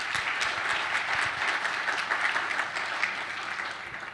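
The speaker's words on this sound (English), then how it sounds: "I think we should give them all another round of applause." Steady, sustained applause from a room full of people at a startup demo day, congratulating the morning's pitchers; dense and even throughout with no talk over it.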